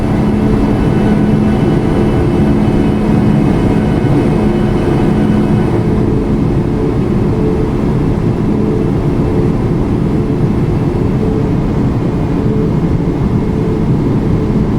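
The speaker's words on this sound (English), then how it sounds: "And then we're going to go ahead and set our flaps for departure. And we can listen to those sounds." A steady low mechanical hum and whine drone inside the cockpit of a Boeing 737 MAX 8 in the iFly flight simulator as the flaps extend for departure, holding constant throughout with a faint tonal whine above.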